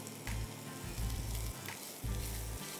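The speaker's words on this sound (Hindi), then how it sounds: "स्टर फ्राई करिए।" Mixed vegetables and cabbage stir-fried in a pan give a continuous close sizzle, with a low thumping pulse and occasional scraping stirs, quiet overall and free of speech.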